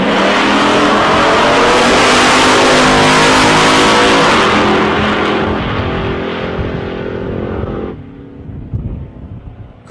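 Drag race cars launching and running at the South Coast Nationals eliminations, a loud roaring engine sweep that peaks early, then fades into the distance with scattered crackles near the end.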